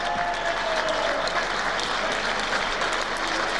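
An arena crowd applauds after a professional wrestling bout between Keith Haward and Steve Grey, a dense, even roar of clapping from many hands at a moderate distance that holds steady throughout.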